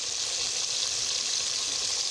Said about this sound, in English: That's the kind of sizzle you guys want right there when you start frying your fish.